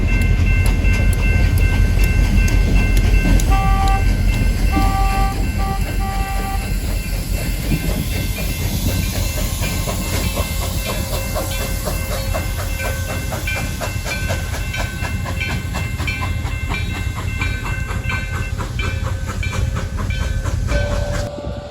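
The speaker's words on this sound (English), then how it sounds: "I was able to get a few more run-bys of the train, starting off as they backed out from the depot in Williams" Grand Canyon Railway steam locomotive 4960 backs its train out of the depot in Williams, with a steady rolling rumble, rhythmic wheel clatter and hissing, and brief tonal whistle-like notes over the drone.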